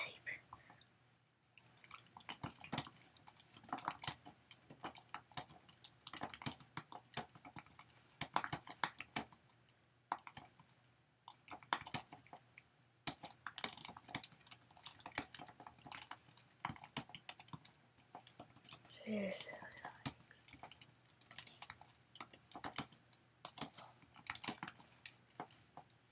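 Quiet, steady tapping of keys on a computer keyboard, close up, with irregular bursts of keystrokes running throughout and a voice talking softly now and then.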